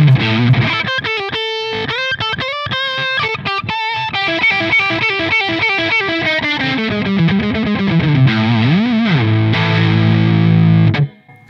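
Taylor Solidbody electric guitar played through its bridge pickup with the gain turned all the way up, giving a loud, heavily distorted tone: quick choppy chords and single notes, then a bending line and a sustained chord that is cut off abruptly at the end.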